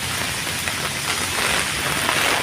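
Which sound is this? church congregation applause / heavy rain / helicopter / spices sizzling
heavy rain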